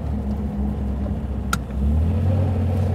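Engine of a 1936 Riley Kestrel 15/6 humming steadily at low volume, then a smooth gear change followed by a slightly louder, deeper rumble as the car pulls on; no voices.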